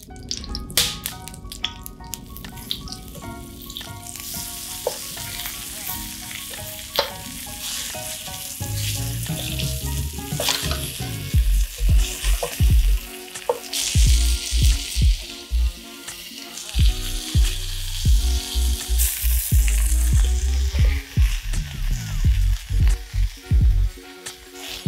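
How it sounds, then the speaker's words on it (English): Floured pieces of salt cod frying in a non-stick pan, a steady close sizzle with crackling pops, scraping and clinks of a utensil building louder and busier in the second half. "we're gonna fry up the floured fish for only a couple minutes on each side"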